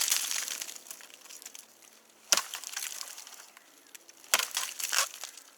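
A knife cutting through a live plant stem in the bush, with quiet crinkling, splintering fibrous sounds and two sharp snapping cuts, close and alone.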